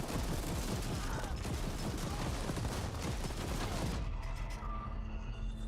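Heavy gunfire from The Ascent pours out in a loud, unbroken rapid burst for about four seconds, then cuts off and leaves a brief fading tail.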